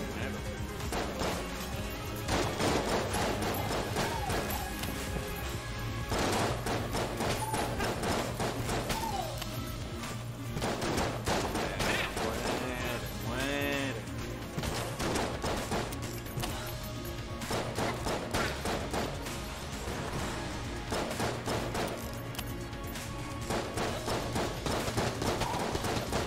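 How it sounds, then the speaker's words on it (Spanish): Rapid enemy gunfire in the dungeon-crawler video game Enter the Gungeon, dense overlapping shots and impacts running continuously over game music, with a brief gap near the middle. "Estos no dejan de disparar hasta que recarga y se teletransporta."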